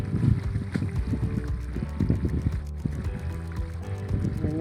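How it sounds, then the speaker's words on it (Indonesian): Strong wind buffets a microphone outdoors in a field where plastic mulch is being laid for chili plants, giving a loud, continuous low rumble with uneven gusty bursts and no clear talk. "Ini anginnya gede ini, agak susah dikit ini."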